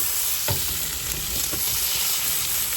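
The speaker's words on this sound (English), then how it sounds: "Decided to grill some sausages as well." Sausages sizzling on a grill aboard a sailboat, a steady loud hiss of frying fat with a few brief pops and clicks, close and continuous, with no talking.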